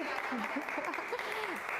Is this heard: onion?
no